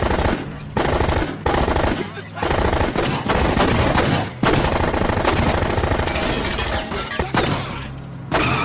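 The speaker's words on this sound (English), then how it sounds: "a brutal high-speed chase with non-stop gunfire" Loud, rapid bursts of gunfire with shattering impacts during a film car chase, coming in several dense volleys separated by brief gaps, mixed with other action noise.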